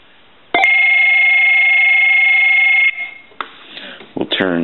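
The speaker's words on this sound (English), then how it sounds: "Here's our piezo buzzer for that." The piezo buzzer of an AT&T Speakerphone 5500 cordless telephone sounds a loud, sustained electronic ring for a little over two seconds, followed by handling clicks and a short voice.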